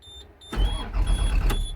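A CAT 3126 diesel in a 2004 Bluebird All American flat-nose bus cranks after a brief quiet moment, the starter churning in a close, loud, rhythmic grind for over a second.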